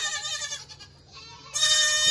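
Baby goats bleat loudly and repeatedly during kidding season, a string of high, wavering cries with a brief lull before another strong bleat rises near the end.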